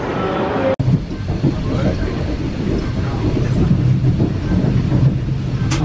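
Train rumbling at a station, a loud continuous low roar with faint rhythmic rail clatter, one sharp click near the start and a brief high squeal at the end; no talk heard.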